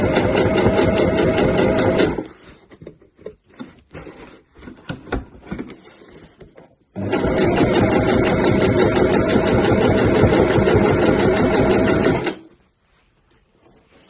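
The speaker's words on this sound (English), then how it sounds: "So that's the finished effect of a nicely top stitched tab there" A sewing machine top stitches a fabric tab for a weekender bag, running in two long steady bursts with a quieter pause of handling sounds between them, close and alone.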